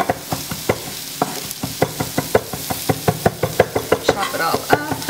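Fresh dill for homemade tzatziki sauce being chopped with a knife on a cutting board: a steady, close run of crisp, evenly spaced blade knocks, with no one talking.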